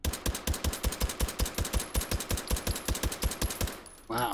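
Full-auto gunfire in the VR game Hot Dogs, Horseshoes & Hand Grenades: a rapid, steady burst of about twenty-five evenly spaced shots that stops abruptly, with a brief rustle after it.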